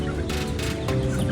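Chicks and hens cluck and peep steadily at feeding time, a close, continuous chatter of fowl with no pauses.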